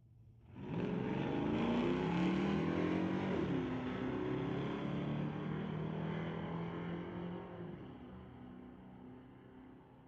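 A 2002 GMC pickup and a 1990 S10 wagon launch in a street-legal drag race at Mission Raceway Park, engines roaring loudly together at a distance and holding a sustained, slowly fading drone for several seconds.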